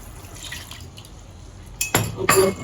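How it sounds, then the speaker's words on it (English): Water poured into a pan while cooking sweet and sour fish, a quiet trickle rising into two louder splashing bursts near the end. "Add in some water"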